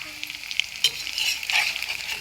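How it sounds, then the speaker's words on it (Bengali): Pakoras frying in hot oil while being stirred, giving a faint, steady sizzle with light scraping and clinks, with no talking. "দেখো পকোড়াগুলো কিন্তু ভালো করে আমি ভেজে নিচ্ছি।"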